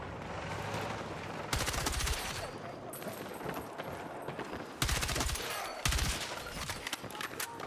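Rapid automatic gunfire bursts in the Battlefield 6 video game, several loud rattling volleys separated by quieter stretches of distant shots and game noise.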